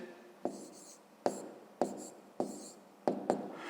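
A pen writing on paper during a math exercise: six short scratchy strokes, each opening with a light tap, spaced at an unhurried rhythm, close and quiet.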